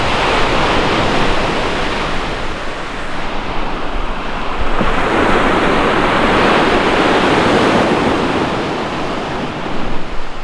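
Waves on a black sand beach of mine tailings along Lake Superior wash in as a loud, steady roar of surf, swelling and easing, with wind buffeting throughout.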